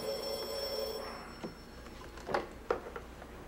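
A telephone rings faintly indoors, with a steady tone at the start followed by a few soft knocks and ticks.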